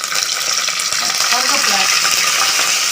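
Two dried red chillies and two green chillies frying in a pan for rice khichdi: a steady, loud, close sizzle that stays even throughout, with a faint faucet-like hiss mixed in.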